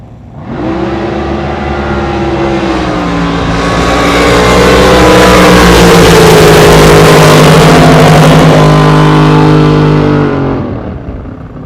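Jet boats in an exhibition race at an NJBA event roar loudly and continuously, their engines climbing in pitch as they accelerate, holding at full power, then fading slightly at the end.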